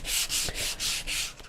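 Paint is sanded aggressively off a painted surface with firm, rhythmic back-and-forth strokes, about five close, loud rasping passes with brief breaks between them.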